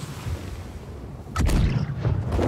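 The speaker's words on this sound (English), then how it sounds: "Load grape shot into the port side cannons." Ship cannons loaded with grape shot fire in the naval battle game Blackwake, a loud booming blast at mid-clip followed by another heavy boom, over a continuous low rumbling background.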